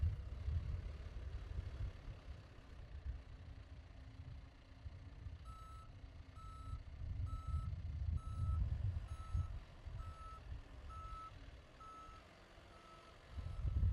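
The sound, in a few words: John Deere backhoe loader backup alarm beeping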